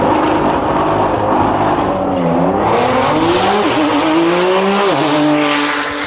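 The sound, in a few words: Porsche 911 and Corvette race cars launching down the strip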